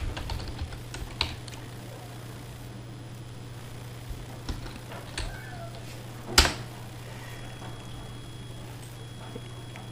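Sparse clicks on a computer keyboard while writing an HTML strong tag, faint scattered keystrokes over a steady low hum, with one sharper louder tap near the end.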